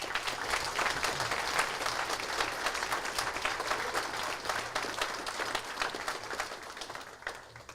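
An audience applauds at a university event in Grimstad, steady dense clapping from many hands that holds for several seconds before tapering slightly at the end, with no voices over it.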